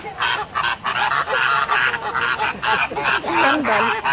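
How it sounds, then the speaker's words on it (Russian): Flamingos in a zoo enclosure call loudly and continuously, a dense goose-like chorus of honking squawks close by, with no talk over it. "Мне кажется, эти звуки делают фламинго."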